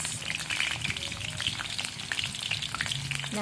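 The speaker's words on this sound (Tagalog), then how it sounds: "karon kuhaon na nato atong mantika og maggisa tag mga lamas" Garlic, onion and tomato sautéing in oil make a continuous crackling sizzle with scattered pops and light stirring, close and moderately loud, without speech.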